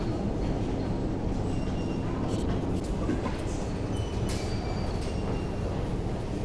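A Moscow metro train rumbles loudly and continuously nearby, with rattling and faint metallic squeals over the deep roar.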